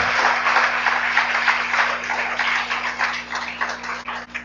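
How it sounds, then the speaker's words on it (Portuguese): A church congregation claps steadily for several seconds, a dense, even patter of many hands filling the room with a faint low hum underneath. "Você pode aplaudir ao Senhor?"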